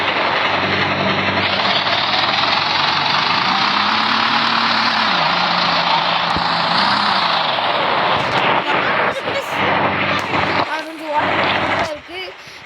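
A video-game tractor engine drones loudly and steadily, its pitch dipping and rising, before the sound breaks into clatter near the end.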